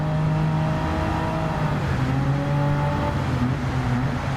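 BMW M4 race car in Gran Turismo 7 at racing pace, its engine droning steadily with shifting pitch as the throttle is feathered to keep the tyres from spinning, loud and continuous with no talk.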